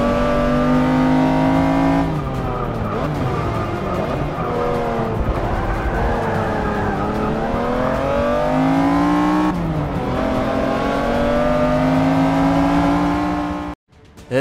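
A race car engine roars in Forza 6 Motorsport on a hilly Australian circuit, holding a loud, sustained note that climbs and dips with shifts and throttle changes, with tire squeal mixed in, then cuts off abruptly near the end.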